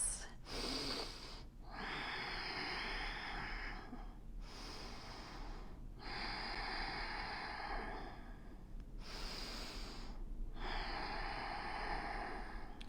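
Slow, deep breaths during a yoga flow held in side angle pose: long airy inhales and exhales come close to the mic in a steady rhythm, separated by short quiet pauses, with no talking.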